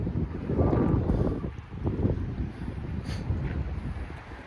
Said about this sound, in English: This wind is serious, y'all.